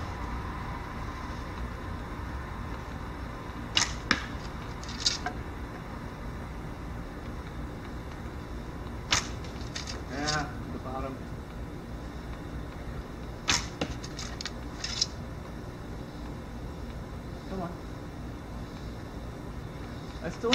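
Arrows loosed from a bow in reverse-draw speed shooting practice give sharp snapping twangs and thwacks in several quick clusters, with softer rustling between shots over a steady outdoor background hiss.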